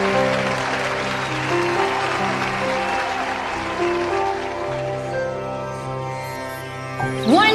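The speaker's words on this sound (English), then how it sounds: "Please give a huge round of applause." Graduation-day audience applauding a junior kindergarten performance, a continuous patter of clapping over sustained musical tones, fairly even throughout and swelling briefly at the end.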